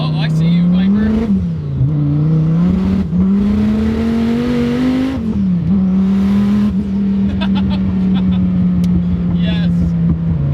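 A 1400-horsepower twin-turbo Dodge Viper accelerates hard from inside the cabin, its engine droning loud and close as the pitch climbs and drops sharply through gear changes, with a voice speaking over it.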